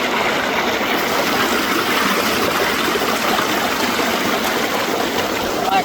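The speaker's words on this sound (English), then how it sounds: "On a small creek like this, it's a fast-moving creek." A small, fast-moving creek rushes steadily and loudly nearby, a dense continuous wash of flowing water with no pauses and no voices.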